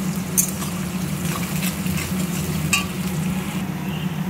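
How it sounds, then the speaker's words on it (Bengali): Onions fry in oil with cumin and garam masala while being stirred, giving a steady close sizzle under low background hum, with a few brief scraping knocks of the spoon against the pan. "আর এবার আমি পেঁয়াজটা দিয়ে ভালো করে নাড়িয়ে যখন লাল লাল ব্রাউন ব্রাউন হয়ে যাবে"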